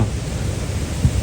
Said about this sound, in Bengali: বৃষ্টি আসতেছে